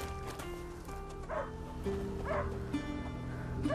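Repeated barks and yips from a dog in the video game A Plague Tale: Innocence, several sharp calls spaced over a continuous low background hum, no speech.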